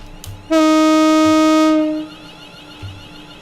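A train horn in the game Train Simulator 2019 sounds one loud, steady blast of about one and a half seconds as the train prepares to depart from a station on the Milton Keynes Central to London line, then fades into quiet ambience.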